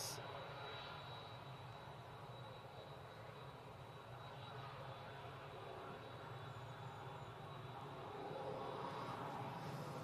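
An Airbus A321neo airliner at Manchester Airport, its engines giving a steady, broad roar heard from the ground at moderate distance, holding level throughout with a slight rise near the end.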